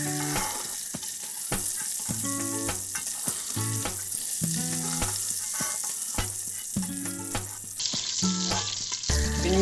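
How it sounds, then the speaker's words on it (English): Andouille sausage sears in a pot for Louisiana gumbo, a loud continuous sizzle and crackle close up, with occasional stirring scrapes and clinks over it. "we've seared our andouille for about 2 or 3 minutes."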